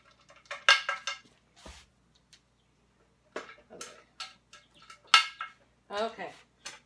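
A metal pressure canner lid, used for canning ham, is loosened, turned and lifted, giving sparse clinks, scrapes and rattles of metal on metal that come up close, with quiet pauses between them.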